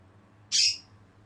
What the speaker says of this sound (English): Now the bird's starting to chirp.